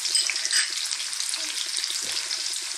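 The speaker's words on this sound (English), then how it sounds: "Let's get that onion in." Onion fries in hot oil for Jamaican-style canned sardines, a dense, steady close-up sizzle with light crackling and a soft utensil knock, no voices.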